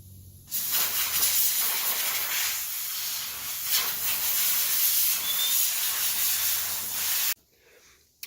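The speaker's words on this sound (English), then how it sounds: "while I have this air compressor all PSI'd up, I'm gonna take the air filter out of this and spray it out as well." Compressed air blasts steadily out of a Polaris RZR 900 air filter, a loud broad hiss lasting about seven seconds with slight surges, then cutting off abruptly.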